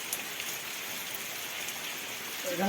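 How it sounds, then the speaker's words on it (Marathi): Steady, continuous rain hissing evenly on surfaces, close and unbroken for the whole stretch. "आज आमच्याकडं पाऊस एकदम कंटिन्यू आहे"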